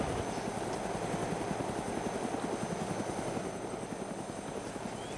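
A helicopter engine in the video game Arma 2 drones with a steady, rapid rotor chop and a constant thrumming whine, close and unbroken throughout, with no talking.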